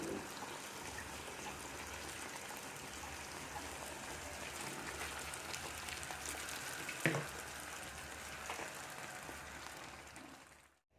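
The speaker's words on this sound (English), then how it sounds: "So now I'm going to heat up my oil and then put this in the pan" Mahamri dough frying in hot oil in a pan gives a steady, dense sizzle that holds evenly for about ten seconds, with one brief louder crackle midway, before cutting off.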